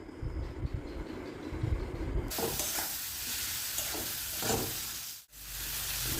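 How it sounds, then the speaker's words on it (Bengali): Tomato and onion with salt and turmeric being stir-fried in a pan, first quieter scraping and stirring, then a loud continuous sizzle from about two seconds in, with a brief dropout near the end. "এবার কষিয়ে নেব।"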